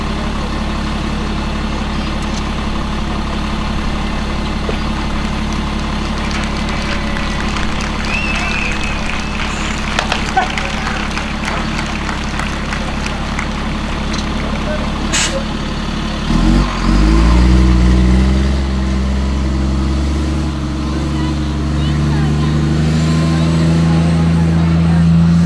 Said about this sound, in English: that little 6-wheeled piece of cover that you just saw was a military surplus vehicle